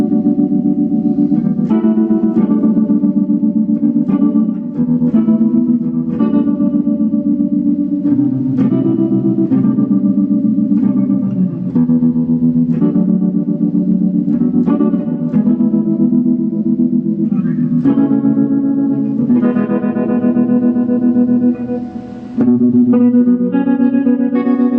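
An electric guitar played through inexpensive combined amplifiers with a chorus effect: shimmering, reverberant chords and picked notes ring out continuously and loudly, with no talking.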